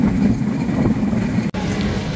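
A passenger express train rumbles into Ullapara railway station in Bangladesh, a steady, fairly loud rolling roar with one brief sharp break near the end.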